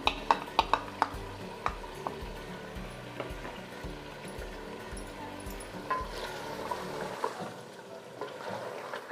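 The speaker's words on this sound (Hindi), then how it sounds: "इस वक्त बीच बीच में हमें बराबर चम्मच चलाना है इसमें, नहीं तो मसाला नीचे से जल जाएगा।" A spoon stirs chicken korma masala in a pan, with sharp metal clinks against the pan at first, then softer scraping strokes over a low, gentle sizzle.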